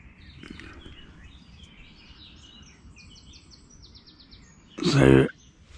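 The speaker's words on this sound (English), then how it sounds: "birds are singing." Birds sing at dawn at a campground, a faint scatter of chirps and trilled phrases in the distance over quiet outdoor ambience, ending with a loud close burst of a voice.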